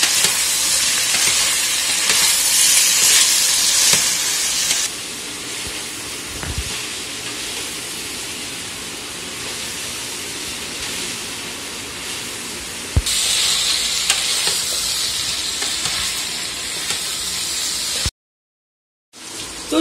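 Chicken being sautéed with chicken masala in a pan, a steady sizzling hiss that runs on without pause, louder in the opening seconds, quieter through the middle and then rising again near the end.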